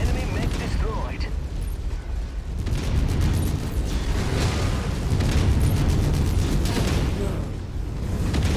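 An enemy mech blows up in MechWarrior 5, a heavy rumbling explosion with metallic crunching that lingers inside a dense, loud wash of battle noise.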